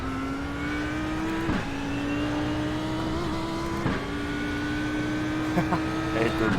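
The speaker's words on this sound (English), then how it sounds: "Gearbox noise." Race car gearbox whine in a racing video game, a steady engine drone with a rising pitch that steps up at each gear change, with a few brief clunks along the way.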